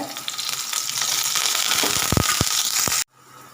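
Finely chopped garlic fries in a pan with a steady close sizzle, a few sharp clicks and taps from stirring near the end, then it cuts off abruptly into quiet.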